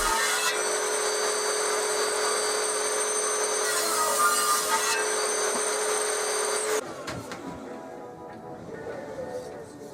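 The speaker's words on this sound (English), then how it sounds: "I ripped the top and the bottom of the head on the table saw" A table saw rips pallet wood for a mallet head, a loud, steady whining cut that runs for several seconds before the blade noise drops away to a fading spin-down and quieter workshop sounds.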